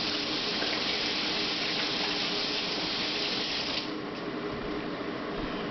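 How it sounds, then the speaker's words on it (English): Steady broadband rush of tap water running into a kitchen sink, rinsing off a utensil while making deer jerky, continuous and fairly close with a slight change near the end, no talking. "hang on, let me rinse that."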